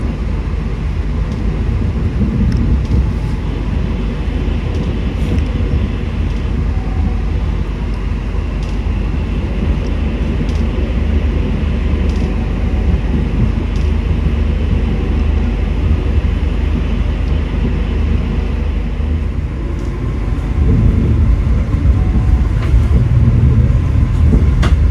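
Progo passenger train in Indonesia running on rails, heard on board as a steady low rumble and rattle of the carriage, constant and fairly loud, growing heavier near the end.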